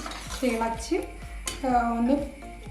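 A spoon stirs Kerala chicken curry in a pot with soft scraping and a few light metallic clinks, fairly close, over a faint background murmur.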